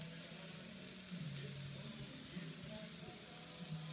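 Meat patties sizzling on a hot Princess pizza maker grill, a soft steady crackle and hiss, fairly quiet and continuous, with a faint hum beneath.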